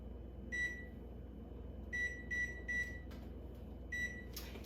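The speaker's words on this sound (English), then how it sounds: "first I'm gonna preheat my oven to 350 degrees." A kitchen oven's electronic control panel beeps while being set to a 350-degree convection preheat: five short, clear, high tones, one isolated and then a quick run of three, with a final beep after a pause, over faint room hum.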